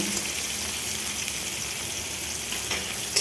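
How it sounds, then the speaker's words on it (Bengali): Capsicum and onion frying in a pan for chicken kali mirch: a continuous, close hiss of sizzling oil with faint stirring noises underneath, steady and moderately loud with no voices. "এই ক্যাপসিকাম আর পেঁয়াজ ভাজাটা তারপর এটাকে একটু নেড়ে নেবো ভালো করে"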